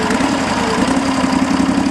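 A 1991 Ingersoll 3014 garden tractor engine runs steadily at close range, a continuous loud throbbing drone with no voices over it.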